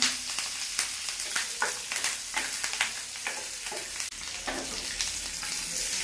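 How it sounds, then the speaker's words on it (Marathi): Mustard seeds, cumin, green chillies and curry leaves crackle in hot oil for a coconut chutney tempering, a loud, dense sizzle with sharp spattering pops and occasional stirring throughout. "अर्धा चमचा जिरा, हिरवी मिरची आणि कढीपत्ता चांगली फोडणी द्यायची आहे"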